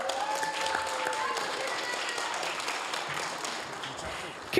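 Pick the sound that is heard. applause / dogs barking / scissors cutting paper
applause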